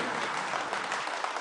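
Dense audience applause from a live stage show, a steady wash of many hands clapping close and loud for a brief moment, with no voices over it.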